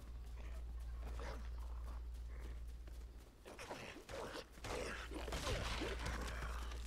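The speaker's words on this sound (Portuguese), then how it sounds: "Ó o cachorro!" A dog in the video game Lego Fortnite, with its sounds mixed among creaks and mechanical in-game noises over a steady low hum, growing busier and louder toward the end.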